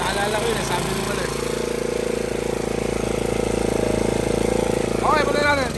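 A portable generator engine runs steadily and loudly close by, a constant mid-pitched drone with a low rumble that holds throughout, while a person speaks over it near the end.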